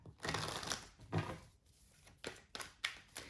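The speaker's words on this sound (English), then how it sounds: "I don't know why I'm still shuffling." Tarot cards being shuffled by hand, a close, soft papery riffle in several separate bursts with short pauses between them, fairly quiet and with no talk.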